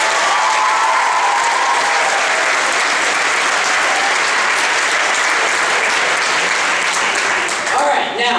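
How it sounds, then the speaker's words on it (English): Loud, sustained applause from a large middle-school celebration audience, thick continuous clapping that holds steady before a brief dip near the end. "let's have a round of applause for all of the student committee members and all the people who got up on stage"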